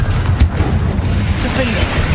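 A Confringo fire spell blast in Hogwarts Legacy, a loud low booming burst with a sharp pop near the start and a rumbling tail under constant combat noise.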